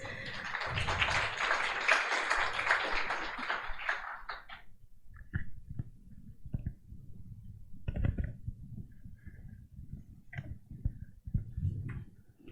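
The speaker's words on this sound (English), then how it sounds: "Let's give applause." Applause from a conference audience after an agreement signing, a dense burst of clapping in the first four seconds that fades into scattered, faint claps and taps.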